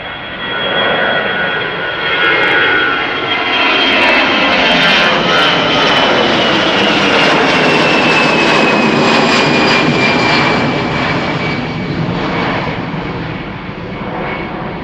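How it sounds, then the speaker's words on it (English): A light Lufthansa Airbus A319 in Star Alliance livery climbs away after takeoff from Schiphol, its loud, steady jet roar swelling and sustained throughout with a rising whine on top, no voices present. "another Lufthansa A319 going to Munich in the Star Alliance livery, flight 2303, and looks to be light, already airborne"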